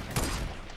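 Gunfire in the Fortnite Battle Royale video game: a short burst of shots that is loudest near the start, then fades into a rough, noisy tail.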